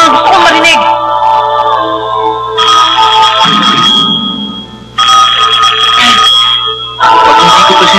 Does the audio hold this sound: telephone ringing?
yes